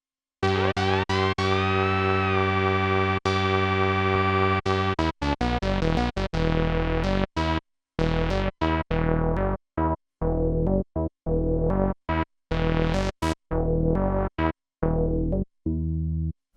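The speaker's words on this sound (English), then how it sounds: "a big 3 oscillator monosynth doing its thing" Analogue Solutions Ample three-oscillator monosynth plays a buzzy, distorted line: a long sustained note with a slow pitch sweep, then a run of short staccato notes with gaps of silence between them.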